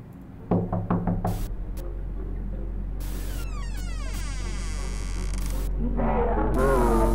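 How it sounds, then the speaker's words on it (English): Knocking on a door in Amanda the Adventurer: a quick run of about five sharp knocks near the start, followed by a droning hum and whirring electronic sounds. "Knock on the door."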